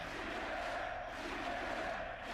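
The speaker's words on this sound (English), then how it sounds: "I was like, the crowd, they're alive with the sound of Team Solo Mid" A large esports arena crowd at the League of Legends Worlds 2019 G2 versus DAMWON match chants for Team Solo Mid, a steady rumbling roar of many voices heard from a distance.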